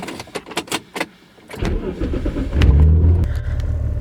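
A car engine cranks and catches after a few clicks, then settles into a steady low idle while it warms up, close and fairly loud.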